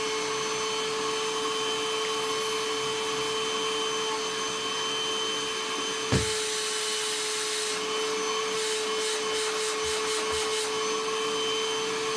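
Einhell 18 volt cordless wet and dry vacuum running with a steady, fairly quiet whine and airy hiss, with a short knock midway and faint rattling afterward.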